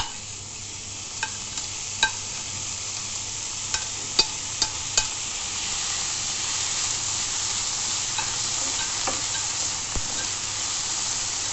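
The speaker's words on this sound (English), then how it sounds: "So we continuously stir the ingredients until the tomatoes are cooked." Onions, coconut and tomatoes fry in a pan with a steady soft sizzle, while a spoon stirs and scrapes against the pan in irregular sharp taps.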